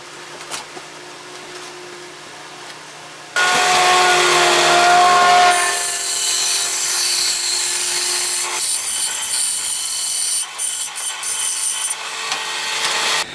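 A jigsaw cuts through 3/4 inch plywood traced around a bucket, a loud steady buzzing rasp that starts abruptly after quiet handling noises and runs continuously with brief dips near the end.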